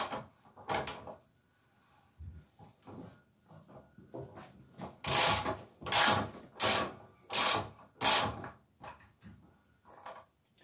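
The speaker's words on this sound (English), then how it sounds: "so that's me got the ratchet together, guys, for this" A ratchet works a 19mm spindle nut on a Yamaha XJ900 front wheel, giving repeated close, loud bursts of rapid clicking in a rhythmic series of strokes with short pauses between.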